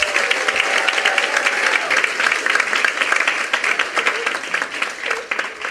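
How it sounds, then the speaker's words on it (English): A sustained round of applause from a large audience at a regional tourism youth congress, dense and steady clapping that holds at full strength for several seconds before easing slightly near the end. "Can we get another round of applause,"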